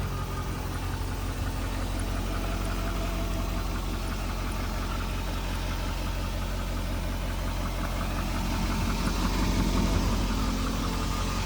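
A 2020 Chevy 6500 dump truck with an Allison transmission runs at a steady idle, its engine a close, continuous low rumble with a slight knocking pulse that swells a little toward the end, no voices over it.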